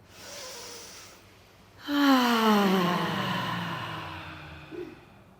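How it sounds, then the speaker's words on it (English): A group draws a deep breath in, then lets it out in a long, voiced sigh that fades gradually, close and fairly loud after a quieter inhale. "Everyone take a deep breath."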